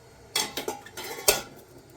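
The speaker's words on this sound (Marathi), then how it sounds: "आणि मग ह्याच्यावरती हे झाकण लावून बंद करायचं." A metal lid and a second metal container are set onto a cooking pot for steaming bread pudding, giving a few sharp, close clanks and knocks spread over two seconds.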